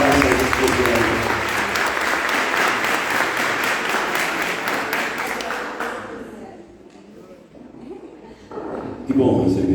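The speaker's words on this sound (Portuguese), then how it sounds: "Então receba as palmas também." A church congregation at a Sunday service claps for visitors, a broad loud applause that fades out after several seconds, with a voice speaking near the end.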